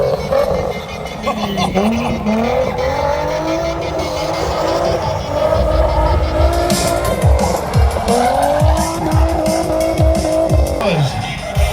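A car is driven flat out in reverse and spun into a J-turn at a Santa Pod event, its tires squealing loudly over the engine roar. Close, continuous skidding runs throughout, with some speech underneath.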